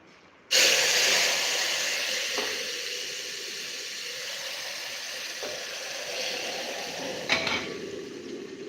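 Hot water from the stove pours steadily into a pressure cooker, a sustained splashing hiss that starts abruptly and runs nearly unbroken, with a few light metallic knocks and no talk.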